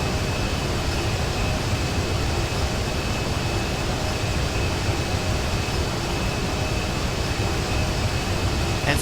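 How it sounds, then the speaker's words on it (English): A jet aircraft in GTA 5 roars steadily with a loud, unbroken engine drone and whine while its landing gear is lowered. The rushing noise stays constant and close throughout, with no talking. "we'll go ahead and deploy our landing gear"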